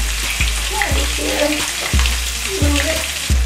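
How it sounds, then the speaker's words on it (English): Food popping and sizzling in a frying pan, with loud sharp pops that come every half second or so over a constant bed of hiss, close up. "If it's popping like that, it's a good sign. It's cooking, I think."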